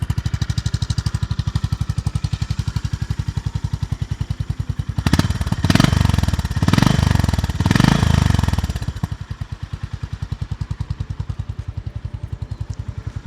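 A Honda GB350S motorcycle idles with a steady, thumping single-cylinder exhaust beat. It is revved three times in quick blips midway, then settles back to idle.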